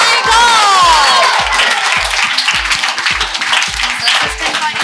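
An audience claps and cheers at a felicitation ceremony, loud and sustained, over a pulsing music beat with whoops and shouts mixed in.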